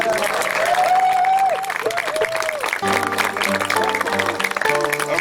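Audience applause fills the room in a steady wash of clapping, running under louder music and voices throughout.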